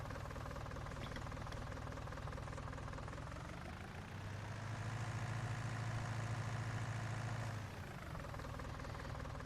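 A 150 horsepower Fiat tractor engine plows under load, with a loud, continuous, close diesel drone that deepens and swells midway through before easing off again.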